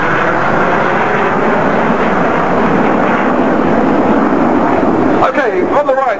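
The RAF Red Arrows jet formation flies overhead at the Bournemouth Air Festival, a loud, steady jet roar sustained throughout, with rising and shifting engine tones near the end as the formation splits.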